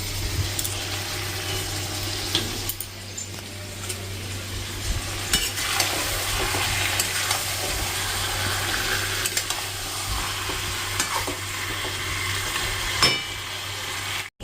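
Potatoes fry in a pan with a steady, dense sizzle that continues throughout, broken by occasional utensil clatter and a low hum.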